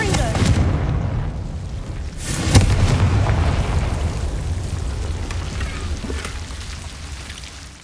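A Confringo blasting spell from the Hogwarts Legacy video game explodes in one sharp boom partway through, set against a steady, dense rumble that lingers and slowly fades.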